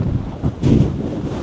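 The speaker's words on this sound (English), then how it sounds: "Pretty windy." Strong wind blasts across an exposed hilltop during a Hebridean storm, a loud, roaring rush buffeting the microphone with surging gusts and no speech.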